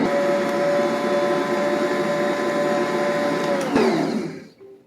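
An electric mixer beats coconut cake batter with a steady, loud motor whir and a constant tone, then winds down and stops near the end. No one speaks.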